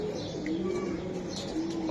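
Giribaz pigeons coo softly in a low, steady murmur, faint and continuous, with a few small chirps over it.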